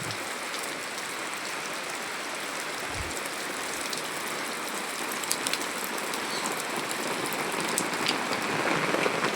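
Rain falls steadily on open rural property in Liliw, Laguna near Mount Banahaw, a constant soft hiss of drops with a few sharper patters and a low thump near the start.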